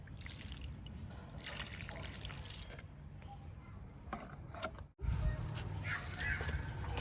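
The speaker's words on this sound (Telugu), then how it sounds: "వాటర్ ఇస్తున్నాను స్నేక్ ప్లాంట్కి." Water trickles from a watering can into a potted snake plant in a home garden, a close, uneven splashing with a short pause before the pouring resumes more strongly.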